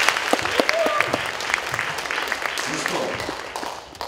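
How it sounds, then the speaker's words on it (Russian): An audience applauds steadily at a formal Lomonosov club ceremony, a dense wash of clapping throughout with a brief spoken phrase over it near the start. "еще раз аплодисменты"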